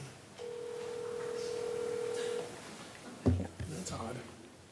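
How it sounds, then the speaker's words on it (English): A telephone call placed from a council meeting produces one long, steady ringing tone lasting about two seconds, followed by brief voices nearby. "We're calling his phone."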